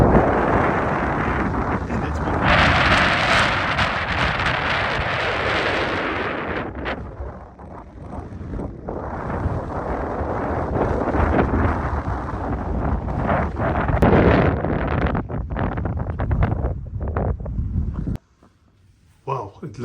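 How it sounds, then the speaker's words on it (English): Strong wind buffets the microphone at a lagoon in Longabon, a heavy broadband roar with gusts rising and falling for most of the stretch before cutting off near the end, with a person talking over it. "It's super windy."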